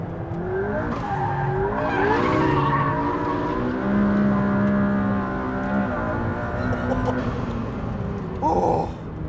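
A McLaren P1 hypercar accelerating hard around a bumpy circuit, its engine climbing loudly through the revs with gear changes and a sharp tire squeal, close and continuous, with no talking.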